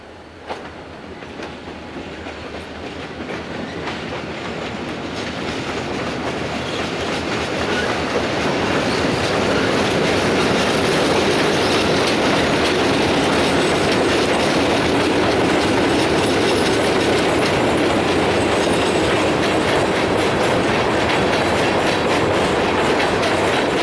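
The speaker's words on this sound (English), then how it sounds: "you can hear the old trestle creaking from the weight it is now bearing" A Canadian National freight train rolls across an old wooden trestle loud and near, building into a dense, continuous rumble with clanking wheels and the trestle creaking and groaning under the weight.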